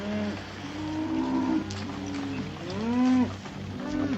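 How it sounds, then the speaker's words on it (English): Cattle low repeatedly as a herd is driven along in an old Western film, long drawn-out moos rising and falling over a rumbling background. "Keep the cattle moving."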